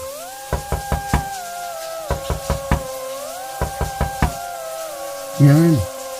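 Several groups of sharp knocks on a boarding-house door, three or four raps at a time, repeat over steady background music and running water, followed by a brief louder burst.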